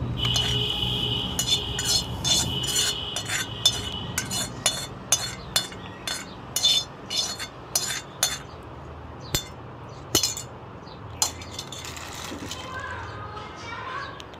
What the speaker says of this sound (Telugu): శుభ్రంగా క్లీన్ చేసి పెట్టుకున్న రోటిలోకి మనం ఇప్పుడు వేయించి పెట్టుకున్న ఇంగ్రీడియంట్స్ అన్నీ వేసుకోవాలి